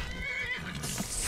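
A horse in the video game Skyrim whinnies amid dense game noise, a drawn-out neigh over continuous rumbling and clatter, with no speech.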